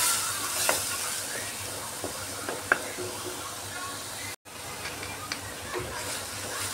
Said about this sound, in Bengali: পেঁয়াজটাকে একটু ভালো করে এখন ভেজে নিতে হবে।